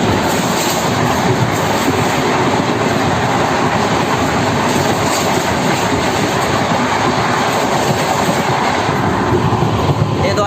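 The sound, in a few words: express passenger train running at speed on rails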